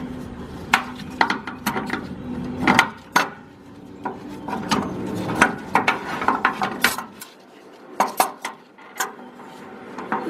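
Channel lock pliers grip and twist the fuel tank vapor vent check valve on a 1995-2000 Ford Explorer. Irregular close metallic clanks, clicks and scraping come through over a low background hum, with no talking.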